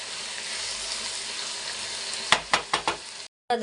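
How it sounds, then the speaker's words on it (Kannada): Mixed vegetables fry with turmeric in a pan, a steady close sizzle, then several sharp scraping stirs in quick succession before an abrupt stop and a brief return, with no talk. "ಇದು ಅಷ್ಟೇ ಚೆನ್ನಾಗಿ ಫ್ರೈ ಆಗಬೇಕು ಅರಶಿನ ಹಾಕೋತಾ ಇದ್ದೀನಿ ಎಲ್ಲ ಚೆನ್ನಾಗಿ ಮಿಕ್ಸ್ ಮಾಡ್ಕೊಳ್ಳಿ"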